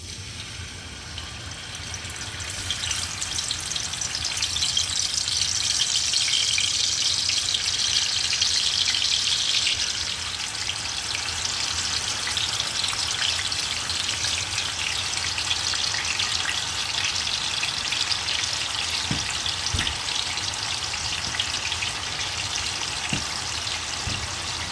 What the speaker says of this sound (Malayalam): ഇനി നമുക്ക് ചിക്കൻ പീസുകൾ ആഡ് ചെയ്ത് കൊടുക്കാം.